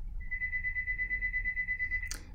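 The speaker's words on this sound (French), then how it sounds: "Eh bien, c'est le téléphone." A telephone rings with a steady electronic tone held for about two seconds, fairly loud and alone over a low background hum, ending in a brief burst of noise.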